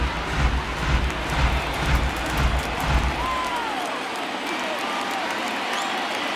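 A baseball stadium crowd at a 2019 ALCS game between the New York Yankees and Houston Astros rises with swelling cheers and applause on a 3-2 count, the roar fading into steady crowd murmur.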